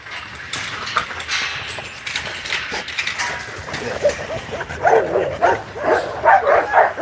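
A dog yips and whimpers in a quick, excited series of short cries that grow louder toward the end, close by, with no talk over it.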